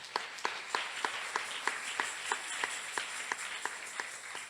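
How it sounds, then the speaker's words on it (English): A congregation at a church sermon claps in a steady beat, roughly a dozen crisp, evenly timed claps over a low hum of room noise. "Clap for her."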